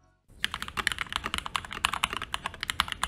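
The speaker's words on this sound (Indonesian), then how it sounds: "Tapi karena ini keyboard pre-built, mari kita dengar suaranya." A pre-built TKL mechanical keyboard with a smoky black plastic case is typed on after a brief silence, giving a quick, uneven run of close, crisp, slightly hollow key clacks.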